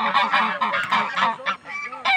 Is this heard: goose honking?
yes